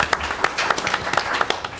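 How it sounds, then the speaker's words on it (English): Scattered hand clapping from a small audience at a monthly community meeting, a handful of distinct claps spread unevenly across a short burst, fairly close and moderate in level, with no one talking over it. "can everybody give her a hand clap?"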